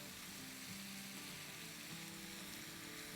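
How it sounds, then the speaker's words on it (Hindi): Crushed chillies, black pepper and soy sauce sauté in a pan over a high flame, making a steady, dense sizzle and hiss that runs unbroken and fairly faint throughout. "बस ज़्यादा से ज़्यादा 1 मिनट सौटे करेंगे और निकाल लेंगे। हाई फ्लेम पे करेंगे।"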